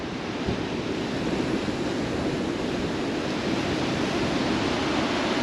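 Surf washing steadily onto a rocky beach at Fowlers Bay, South Australia, a broad continuous wash of breaking waves with some wind across the microphone, no voices.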